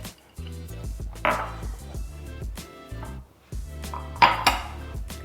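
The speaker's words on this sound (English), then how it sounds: "Mix it up real good." Banana muffin batter with walnuts mixed in a bowl, with repeated clinking and scraping of a utensil against the bowl in uneven bursts, fairly close and fairly quiet.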